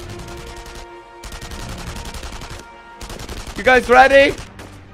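Rapid gunfire bursts in the World War II shooter game Enemy Front, loud repeated volleys with short gaps between them, while a player speaks over the shooting.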